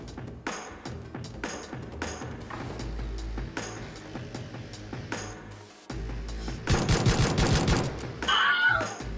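Cannon fire from a weapon in a shooter video game: repeated sharp, heavy shot bursts in quick succession, growing into a dense, loud volley near the end, with no talking over it.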